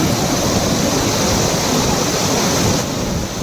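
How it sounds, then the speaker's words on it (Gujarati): Loud, continuous roar of water rushing over an overflowing dam, a dense unbroken torrent close by with no speech. "પાણીનો અવાજ ખાલી સાંભળો તમે આમ જો. અને આ ડેમ અત્યારે જ્યારે ઓવરફ્લો થાય ને ત્યારની આ પરિસ્થિતિ હોય."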